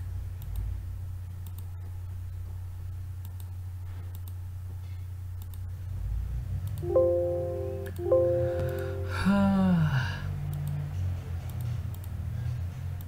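Computer mouse clicks during SolidWorks sketch work: sparse, faint, sharp ticks over a steady low hum, with a few short tonal interface sounds about midway.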